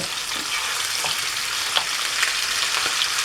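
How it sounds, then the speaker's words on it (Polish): Seasoned pork ribs fry in hot oil with a steady, close crackling sizzle and scattered louder pops, continuous throughout with no talking. "Opruszone, przyprawione nasze żeberka smażymy, obsmażymy z dwóch stron na rozgrzanym oleju"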